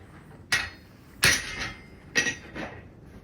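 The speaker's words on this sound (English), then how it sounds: "here's me hitting it with the set hammer, just trying to get it straightened out and everything" A set hammer strikes a cold steel scroll bracket three times, each sharp metallic clang ringing briefly before the next, close and distinct with no voices.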